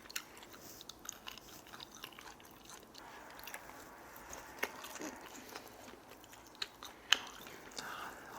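Quiet, close-up chewing of grilled sand lance fish, bones included, with soft crunches and occasional sharper bites, steady and unhurried, with faint background noise and no talking.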